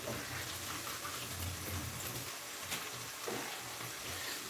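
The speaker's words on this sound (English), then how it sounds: "Gotta rinse off my fingers real quick." Fingers are rinsed under a running kitchen tap while making carrot ginger soup, giving a faint, steady rush of water with slight splashing, nearby and with no talking.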